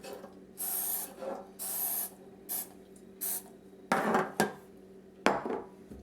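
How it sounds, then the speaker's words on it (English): No-stick cooking spray is sprayed onto six small baking pans in a quiet kitchen: several short hissing bursts, close and fairly loud, followed by a few scraping and clattering sounds as the pans are handled. "I'll start by spraying the pans with no-stick spray."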